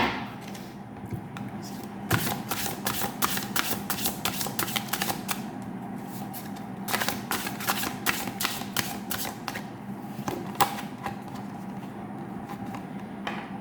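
Oracle cards being shuffled by hand at a tarot reading, a run of quick crisp riffling flicks in bursts, close and clear, with short pauses between shuffles and no talking.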